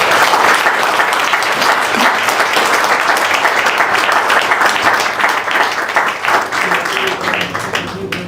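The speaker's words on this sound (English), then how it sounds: "So, I will propose you to give a big round of applause to Andy." Loud, dense applause from a large audience, sustained throughout and thinning slightly toward the end.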